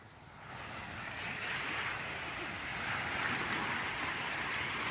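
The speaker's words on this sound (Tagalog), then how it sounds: "Maganda ang dagat." Sea waves wash and roll steadily from a boat on open water, a broad continuous surf noise mixed with wind buffeting the microphone.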